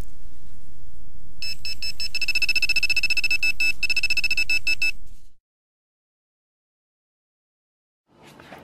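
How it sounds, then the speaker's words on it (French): A GP Pointer handheld metal detector pinpointer gives a loud, rapid pulsing electronic beep for a few seconds, then cuts to silence, with a faint rustle at the end. "C'est un GP pointeur, donc c'est un détecteur de métaux en fait."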